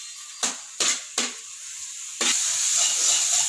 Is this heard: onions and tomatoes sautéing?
yes